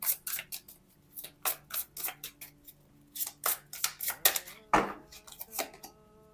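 Tarot cards being shuffled and laid out by hand, a string of crisp papery flicks and snaps at an uneven rhythm, close and fairly quiet with no talking.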